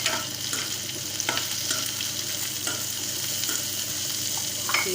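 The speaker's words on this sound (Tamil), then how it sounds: "கட் பண்ணி வச்சுருக்கிற உருளைக்கிழங்கு நம்ம இதில் சேர்த்துக்கலாம்" Cubed potatoes stirred with softened onions in a hot pan for a South Indian cauliflower potato fry, a steady close sizzle and frying hiss broken by scraping stirs, with no voices.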